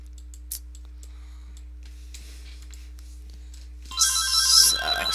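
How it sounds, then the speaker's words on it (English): A phone ringtone starts suddenly near the end as a bright electronic melody, loud and close, after quiet stretches of faint clicks and a low steady hum. "Got the phone to shut up."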